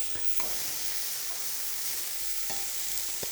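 Leeks and bacon sizzle steadily in an oiled pan, a dense continuous frying hiss close by, broken by a few light clicks of stirring, with no speech over it.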